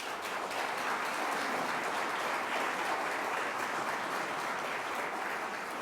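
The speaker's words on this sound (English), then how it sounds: "please give them a round of applause" A crowd applauds steadily at the Onondaga County Executive's 2025 budget presentation. The clapping is dense and sustained at an even level throughout, with no talking over it.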